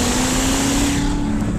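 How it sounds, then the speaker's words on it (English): Corvette ZR1 exhaust with the valves open roars loudly and steadily, holding a sustained drone with a strong low tone and no talk. "Valves in the exhaust open up."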